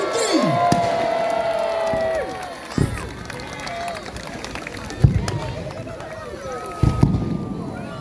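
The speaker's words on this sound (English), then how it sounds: "Let's have a cheer for the planes." A crowd cheers for model planes at a mini boat battle in Scarborough, shouting over a busy, noisy background, with a few sharp bangs cutting through the cheering.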